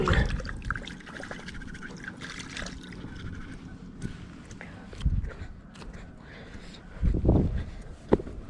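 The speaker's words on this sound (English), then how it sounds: "Try and wash my hands off quick." Water trickles and splashes from a tap as hands are rinsed quickly outdoors, a steady running flow with a few louder splashy bursts and knocks near the end.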